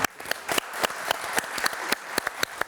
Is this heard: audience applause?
yes